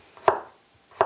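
A knife slices garlic thinly on a cutting board for dongchimi radish water kimchi, two crisp, close chops about three-quarters of a second apart.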